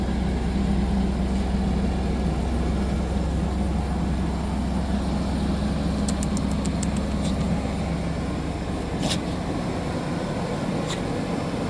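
A 1997–2002 Chevy Blazer engine idles steadily and loudly right after a fuel pump replacement, a constant low rumble throughout with a few faint clicks near the end.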